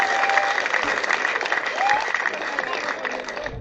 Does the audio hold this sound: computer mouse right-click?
no